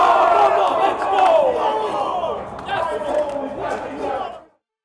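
A large crowd at a hockey tournament roars and shouts loudly in a sustained swell with scattered sharp knocks, then cuts off abruptly.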